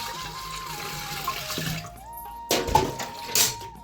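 Water poured onto a Shiva idol at a temple as an offering, splashing and trickling close up in bursts, with a steady hum underneath and a couple of sharper splashes near the end.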